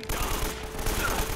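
Burst of rapid gunfire in the video game Uncharted: Drake's Fortune, with dense overlapping shots filling a short, loud stretch.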